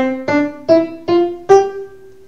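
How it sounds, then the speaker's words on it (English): Five detached piano notes struck one after another at a steady bouncy pace, each cut short with a clean attack and quick decay, the last ringing slightly longer; played alone with no voices. "So we have staccato, which means detached and bouncy."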